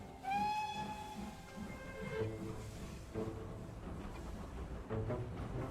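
Old steam train whistle, a long, fairly faint tonal blast that fades out, followed by steady hissing and rumbling rail noise with a few soft knocks.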